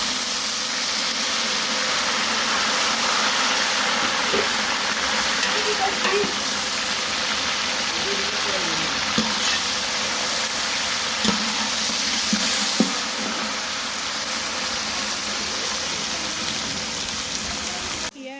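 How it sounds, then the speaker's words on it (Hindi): Garlic ginger paste frying with browned onions for degi-style chicken pulao, a continuous hissing sizzle with occasional stirring clinks and scrapes, close and fairly loud. "लहसुन अदरक को प्याज में भुना है हमने।"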